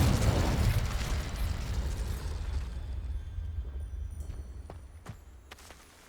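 Confringo explosive spell in Hogwarts Legacy, a loud, close blast with a booming low rumble that slowly fades over several seconds, followed by a few faint scattered pops.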